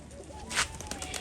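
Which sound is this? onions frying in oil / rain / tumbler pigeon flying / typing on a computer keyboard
tumbler pigeon flying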